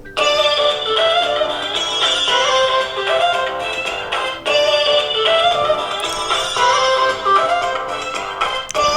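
Bollywood ringtone from a Blackview BV9700 Pro phone: a loud, dense melodic music loop that repeats in two matching phrases, with no talking over it.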